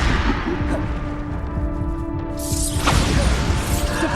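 Bombarda spell blast smashing objects in Hogwarts Legacy, clattering game combat noise followed by a loud bright crash and scattering debris in the second half, no voices.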